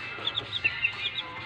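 Chickens cluck softly in a quick series of short, close calls over quiet background noise.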